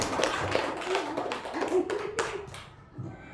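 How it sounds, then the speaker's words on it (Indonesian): An audience of teachers at a school training session claps: a patter of scattered hand claps with a few sharper accents, fading out near the end. "Berikan tepuk tangan buat saya."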